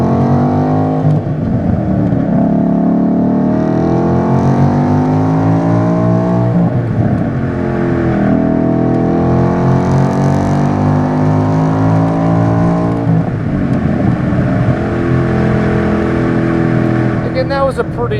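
A 2013 Ford Boss 302 Mustang with a 6-speed manual pulls steadily for most of the run. The engine note climbs and holds loud and close, with brief dips at the gear changes, and it covers the whole stretch without talk over it.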